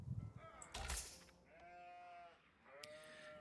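Sheep in the strategy game Age of Empires IV let out two drawn-out, wavering bleats in the second half, after a short burst of louder noise at the start.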